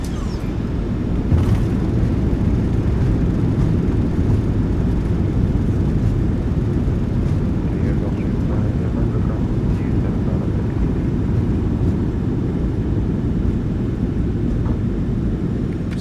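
Thrust reversers on a PMDG 737-900ER in a flight simulator, decelerating after landing at San Diego: a steady, loud, low rumbling roar that holds evenly throughout without letting up.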